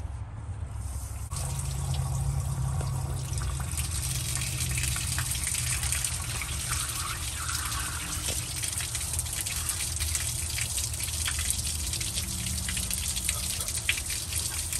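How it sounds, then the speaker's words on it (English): Water from a hose gushes through the engine block of an abandoned 1982 Chevrolet C10 pickup outdoors, flushing out heavy rust. After a quieter first second it becomes a steady, close, continuous splashing rush. "now we're about to stick a water hose and see if we can flush out some of this awful rust in the block"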